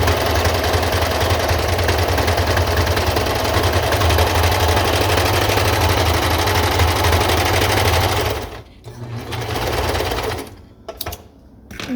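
A sewing machine runs steadily and loudly while stitching top binding, with a continuous motor whir that breaks off in short stops and restarts near the end.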